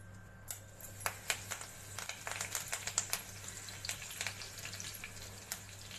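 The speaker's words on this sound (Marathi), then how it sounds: "तेल तापलंय, त्यात कढीपत्ता असा तोडून घालते मी" Curry leaves crackle and spit as they drop into hot oil for Kolhapuri kat vada, a faint pan sizzle broken by scattered sharp pops over a low steady hum.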